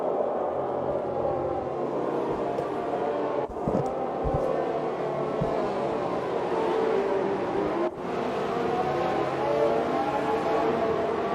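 Formula 1 race cars on a soaking-wet warm-up lap at the Chinese Grand Prix in the F1 2018 video game, a steady, dense engine drone that holds evenly throughout with brief dips.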